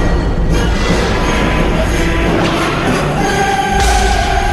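Loud, dense dramatic score with heavy low rumbling and booming hits, swelling brass-like tones rising near the end.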